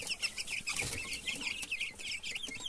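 Guinea fowl and chicks in a backyard pen give repeated clucking and chirping calls, close and continuous, with faint rustling and no talk.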